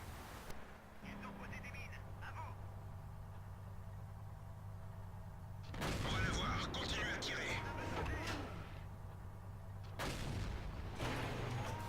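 Tank cannon fire in World of Tanks, an AMX 13 90 shooting at an enemy vehicle behind a building: engine drone underneath, then a loud broadband blast around six seconds and another near ten, with talk over it.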